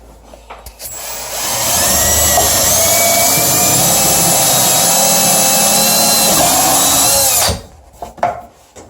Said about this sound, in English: All right, so we're going to pre-drill our holes.